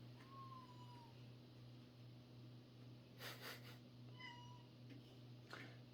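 A pet cat meows faintly indoors, two or three soft, brief calls spaced a few seconds apart over a steady low electrical hum, with no one talking.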